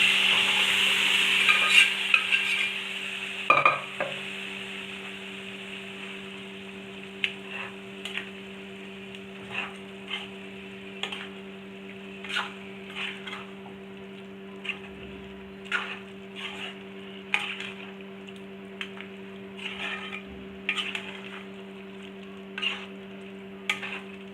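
Cooked mutton stirred into masala frying in a pan: a brief sizzle at the start, then regular scraping stirs about every second or so over a steady low hum, close and clear.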